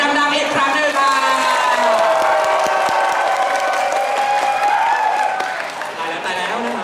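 Fan club crowd at a BNK48 idol event in Chiang Mai, loud sustained cheering, whooping and applause filling the room, dense and continuous, with a faint amplified voice beneath.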